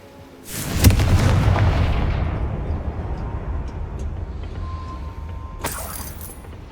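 Confringo blast spells in Hogwarts Legacy: a loud explosive boom near the start with a sharp crack, fading into a long rumbling tail, then a second burst hitting near the end.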